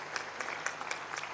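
Audience applauding at a school smart-classroom inauguration event, a brief burst of dense clapping with no talk over it.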